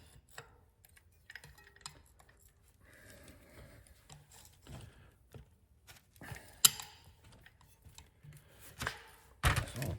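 A wrench works a nut onto the frame of a 1964 Schwinn Typhoon bicycle, sparse metallic clicks and ratcheting taps spread over quiet background, with a sharp clank near the end.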